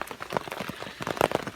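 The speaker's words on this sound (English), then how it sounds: "I'm not sure how long it's supposed to rain tonight" Rain patters steadily on a French Army F1 tent during a solo bushcraft overnight camp, a dense close drumming with scattered sharper drops and no voices.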